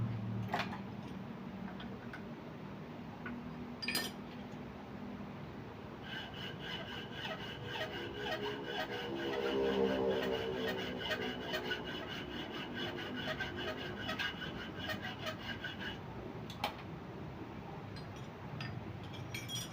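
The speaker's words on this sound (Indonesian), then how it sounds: "Ini cara pemotongan harus diputar-putar ya, supaya lurus, jangan sampai miring ya." A motorcycle shock absorber tube from a Yamaha N-Max is cut by hand while being rotated, giving a faint, steady rasping saw stroke with scattered ticks and a brief whining tone partway through, no talk.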